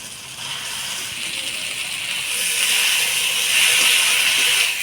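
Water poured into hot spices in a pan while cooking muri ghonto sets off a loud, steady sizzling hiss that swells louder partway through and keeps going without a break.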